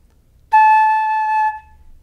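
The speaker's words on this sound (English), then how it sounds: "So now we've got a really good, solid, open sound on our flute" A single sustained flute note with a solid, open tone, starting cleanly and held steady for about a second before stopping, clear and close in a quiet room.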